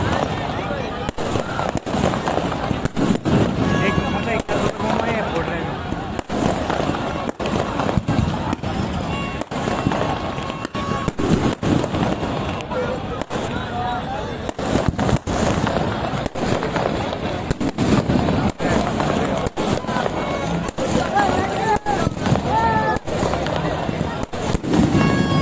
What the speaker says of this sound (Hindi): अभी आतिशबाजी का नजारा दिखाई देगा